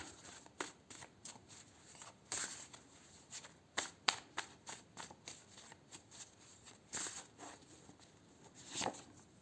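Cards being shuffled for a card reading, repeated quick riffling bursts at a low level with short pauses between, no talking.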